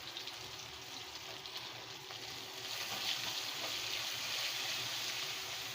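Sliced onions sautéing in a pan give a steady, soft frying sizzle with a broad hiss that swells slightly louder partway through, with no talking.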